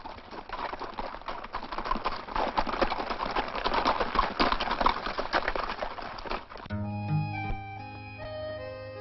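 Horses walking at a steady pace pull a horse-drawn wagon, the hooves clip-clopping in an even rhythm at moderate loudness before musical tones take over near the end.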